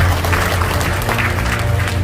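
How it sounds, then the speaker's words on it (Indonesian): Audience applause at an anti-riba business community event, a dense steady wash of many hands clapping at once, sustained evenly and fairly loud throughout. "tepuk tangan buat Bapak Ibu semua"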